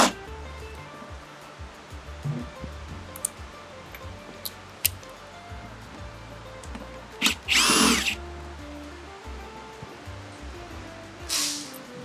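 Power driver fitted with a 4mm Allen bit backing screws out of the storage compartment on an RX1E electric motorcycle, heard as short whirring bursts, one longer loud run near the middle and another toward the end, against a quiet workshop background.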